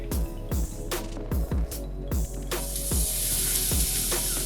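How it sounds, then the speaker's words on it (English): Chili lime pork ends laid into a hot pan at medium-high heat sizzle loudly and steadily, with a few sharper pops and crackles at the start before settling into a continuous dense fry. "Now we're gonna take the ends and put them directly onto the pan at about medium-high heat"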